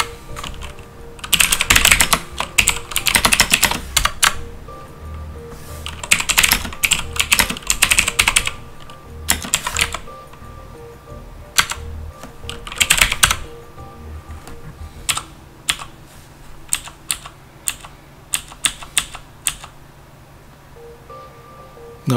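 Typing on a computer keyboard while logging into an emulated mainframe system, with dense bursts of fast keystrokes, pauses, and scattered single key presses, close and clear with no voices.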